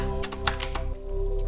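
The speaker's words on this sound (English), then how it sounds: "I'm terrible at typing." Rapid clicks of a computer keyboard during a machine learning study session, with a quick uneven burst of keystrokes heard close over a steady electrical hum.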